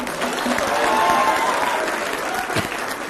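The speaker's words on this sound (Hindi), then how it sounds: "बुलडोजर पर तालियां बज रही हैं" Steady audience applause fills the studio during a televised Hindi political debate, a dense wash of clapping that holds throughout with no pause.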